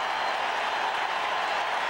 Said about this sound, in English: Crowd on its feet in Houston.